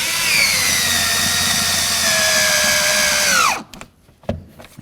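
A power drill whirs steadily, driving two screws into the door handle area of a 1988-2002 GMC Sierra 1500; the close, loud whine holds for over three seconds, then winds down and stops, followed by a few faint handling knocks.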